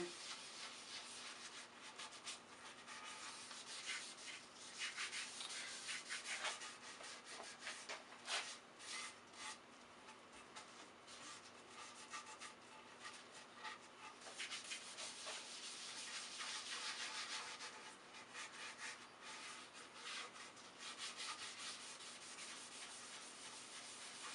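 A cloth rubs wood stain into a wooden surface in steady, close back-and-forth strokes for about 24 seconds, a soft continuous scuffing with no talking.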